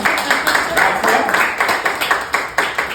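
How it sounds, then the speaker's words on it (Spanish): Audience applause at a financial summary presentation, a steady wash of many hands clapping with rhythmic bursts, fairly loud and continuous. "quiero que recibamos con un fuerte aplauso a nuestra querida campañista"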